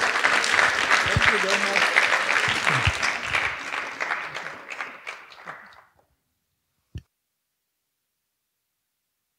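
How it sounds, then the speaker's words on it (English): Warm applause from a panel discussion audience at a movie night, loud and dense for several seconds under a brief spoken thanks, then thinning into scattered claps before falling silent, with one last isolated clap. "So big round of applause for our panelist and moderator."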